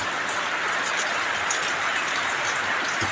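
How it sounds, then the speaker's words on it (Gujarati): Morning rain falling steadily over a farm field beside a maize crop, a dense, even patter of drops on surfaces that stays close and unbroken throughout. "સવારમાં જ વરસાદ ચાલુ થઈ ગયો છે"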